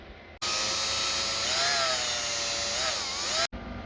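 A small electric screwdriver backs out screws on the differential cover of a TRX-4 Ford Bronco RC truck, a close high-pitched whine that rises and dips for about three seconds and then cuts off abruptly.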